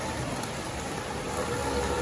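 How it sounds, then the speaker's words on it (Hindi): Heavy morning rain pours down outside a home in Delhi, a steady, dense hiss of falling water with no break and no voices. "ये देखिए बाहर बारिश, पानी कितना है।"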